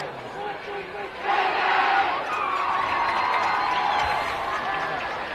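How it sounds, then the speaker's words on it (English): A large crowd at a 2022 high school football game, Rigby (Idaho) against American Fork, roars and cheers loudly and steadily, the noise swelling partway through as a commentator talks over it. "Quite the crowd that traveled down from Rigby."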